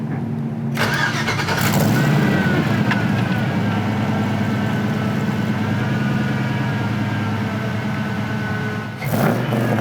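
Chevrolet K10 truck, a ground-up restoration fitted with a MagnaFlow stainless exhaust, cranks and fires after a moment of quiet, then runs at a steady, loud idle close by for several seconds before a brief shift in tone near the end.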